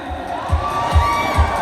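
An audience at a festival awards announcement in Harajuku cheers and shouts in short loud bursts, with high whoops rising over a rhythmic low thumping.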